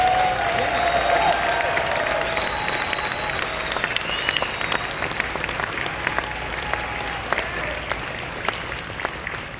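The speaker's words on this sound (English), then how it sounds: "a nice round of applause for Meredith Berger." A large company-event audience claps steadily in a broad, sustained round of applause, with cheers and a few whoops rising above the clatter and sharper individual claps standing out near the end.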